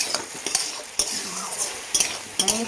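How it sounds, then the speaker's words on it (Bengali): A spoon stirs a potato, poppy seed and Malabar spinach curry in a pan over a low sizzle, with repeated close scraping strokes and light clinks of utensil against metal. "এবার দেখি, একটু নাড়াচাড়া করে দেখি।"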